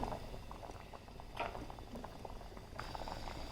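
Jaggery melting as water heats in a pot for traditional Ugadi festival holige, made with toor dal, bubbling in a steady, close boil with soft patter throughout.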